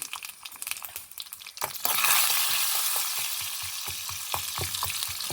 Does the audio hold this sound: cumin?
yes